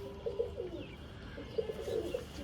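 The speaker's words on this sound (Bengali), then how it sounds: "এই হলো মুক্কি পায়রা জাস্ট কোয়ালিটি দেখুন আপনারা" Mukki pigeons coo in soft, rolling bursts, two short runs of nearby throaty calls over a quiet background, with no talking.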